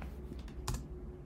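A single computer keyboard key press, the enter key, a short quiet click over faint background hum.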